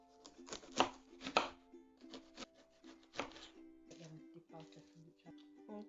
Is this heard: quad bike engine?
no